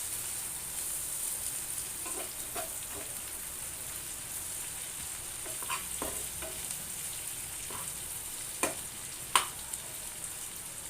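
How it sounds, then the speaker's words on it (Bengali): Garlic is stirred through a nearly finished fried vegetable bhaji in a pan, giving a steady soft sizzle with a few faint scrapes and taps of the spatula and no talking. "এবারে হলো রসুন দিয়ে আমি এভাবে নাড়িয়ে ছেড়ে দেবো আবারও"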